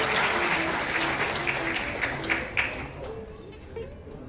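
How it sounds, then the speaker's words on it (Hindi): An audience at a Children's Day award ceremony of the Indian Academy of Fine Arts, Amritsar, gives a dense burst of applause that holds steady and then thins out and fades after about three seconds. "बहुत सारिया तालियां देते"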